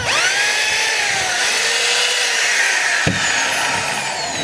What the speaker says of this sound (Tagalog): Kapag hammer mga kabay, ito po yun, medyo maingay siya.